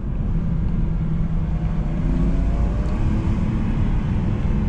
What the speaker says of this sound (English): I can drop gears.